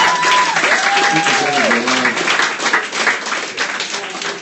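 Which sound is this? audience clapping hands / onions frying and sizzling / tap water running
audience clapping hands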